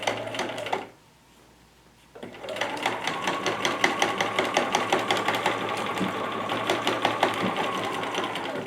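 A sewing machine stitching a small fabric basket runs in a steady, fast mechanical chatter close up, pausing briefly near the start before resuming with a continuous rhythmic clatter.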